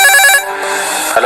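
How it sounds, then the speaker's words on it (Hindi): A telephone rings in an animated horror cartoon, sounding a repeated electronic ringtone with a sharp trill pattern for about a third of a second before a softer, sustained tone carries on alone. "विवेक को एक फोन आया।"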